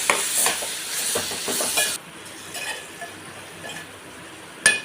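Curry with tomato and coriander powder is stirred in a pan, a soft sizzling hiss with scraping strokes of the spoon, louder at first then quieter and intermittent, heard up close without talking.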